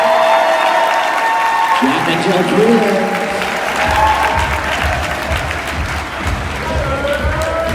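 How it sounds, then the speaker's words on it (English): An audience applauds and cheers for the champions at a West Coast Swing dance competition, a dense sustained roar of clapping that continues while an announcer speaks over it. "how about a round of applause for your champions?"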